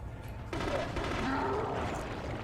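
Gunfire from the Wii shooter The Conduit pops in a short, muffled burst at moderate distance, lasting about two seconds against game background sound.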